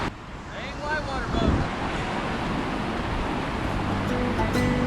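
Rushing river whitewater churns steadily around a kayak on a multi-day camping trip, a broad continuous roar with wind buffeting the microphone, and a few faint voices and tonal squeaks surfacing briefly.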